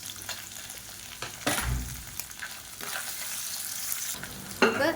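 A handful of long-sliced large onions sizzle and fry in a pan for egg rice, with steady crackling broken by a few louder stirring scrapes, close and alone.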